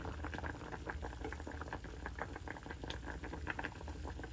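Water boiling in a pot with palitaw rice cakes, a continuous close bubbling patter with fast irregular pops and rattles, steady and moderately loud throughout.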